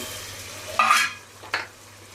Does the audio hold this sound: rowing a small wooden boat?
no